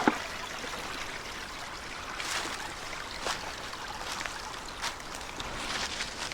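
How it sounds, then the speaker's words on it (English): Water flows in a stream near an outdoor shelter site, a continuous close trickling and burbling with small splashy surges, steady throughout and with no voices. "Looks like there's a larger stream down there, so we have plenty of water."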